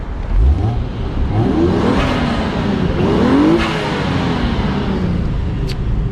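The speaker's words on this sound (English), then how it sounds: "The little turbo spool and stuff like that." A JZ-engined Toyota Soarer revs loudly and close, rising and falling in pitch with a whirring turbo spool layered over the throaty roar.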